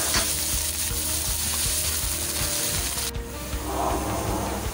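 Chopped onion fries in four tablespoons of oil, a dense close sizzle over a rhythmic ticking pulse, with a sudden drop in the hiss about three seconds in as the frying continues more softly.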